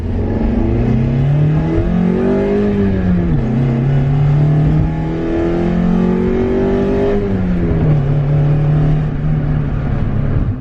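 A turbocharged Mazda Miata engine revving loudly at full throttle, running on a MegaSquirt engine management setup, with steady rising and falling engine pitch sustained throughout and no talking.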